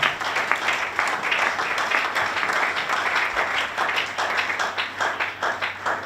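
A church congregation at a worship service claps in a steady, rhythmic beat, close and lively, with the clapping continuing throughout.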